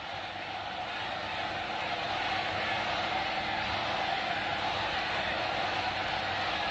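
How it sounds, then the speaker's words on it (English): A large cricket stadium crowd roars as one continuous, loud, dense wash of cheering and shouting that swells slightly and holds steady throughout, with no distinct individual voices. "Outstanding crowd here at this stadium today. And they're very vocal right now."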